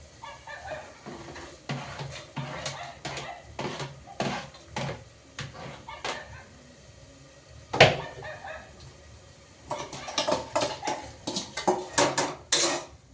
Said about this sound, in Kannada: ಇವಾಗ ನಾನು ಮೊಳಕೆ ಕಾಳು ಕಟ್ಟಿದ್ನಲ್ಲ, ಅದನ್ನೇ ಇವಾಗ ಆ್ಯಡ್ ಮಾಡ್ತಾಯಿದ್ದೀನಿ